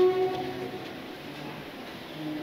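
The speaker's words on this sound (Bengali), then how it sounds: "ট্রেন ছেড়েও দিল।" Train pulling out of a station in South India, opening with a brief horn note, then a steady moderate rumble of carriages rolling on.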